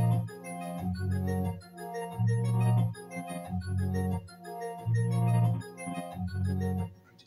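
A simple synth chord progression from the GMS stock plugin in FL Studio plays in sustained, swelling chords with short gaps between them, moderately loud and alone with no voices.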